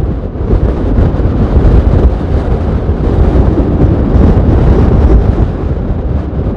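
A strong wind blows across an open gravel road, buffeting the microphone with a loud, continuous, low rumbling roar that never lets up.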